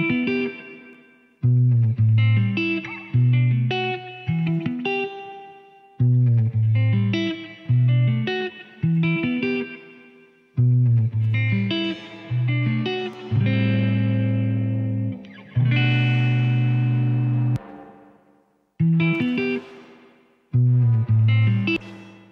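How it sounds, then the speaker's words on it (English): Guitar played through a Strymon BigSky spring reverb, short repeated chord phrases with pauses between them, starting clean and short-tailed and growing into thick, nasty distortion with longer sustained washes. "All kinds of, from the cleanest spring, it's clean and short, all the way up to just nasty distortion."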